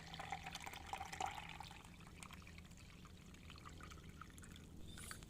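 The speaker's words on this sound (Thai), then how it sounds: "แล้วก็กองเอาแต่น้ำค่ะเทเอาแต่น้ำเขาเนี่ย" Liquid soaked from fruit peels, rambutan and mangosteen rind, is poured off into a container, giving a faint, continuous trickling and splashing stream heard close by in a quiet room.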